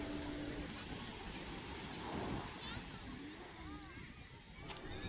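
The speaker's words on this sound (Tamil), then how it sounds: "கடல் காற்றோடு சேர்ந்து அந்த காலில் வந்து தண்ணி படும்போது ரொம்பவே சூப்பராக இருக்குங்க" Sea water washes and sloshes over feet at Akkarai Beach on the ECR near Chennai, a steady close wash of surf under sea wind with faint voices.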